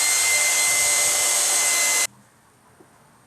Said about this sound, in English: I'm going to hit it with another round of some hairdryer action